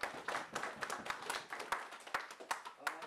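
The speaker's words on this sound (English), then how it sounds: "So please give a big round of applause to him as well." Audience applause at a cricket club's annual general meeting in Edmonton, a steady patter of many hands clapping at close range for about three seconds, with scattered louder claps standing out.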